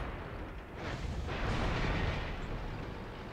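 An artillery gun fires in the tank battle game World of Tanks, a deep rumbling boom that swells and lingers as a broad roar for a few seconds, with no talking.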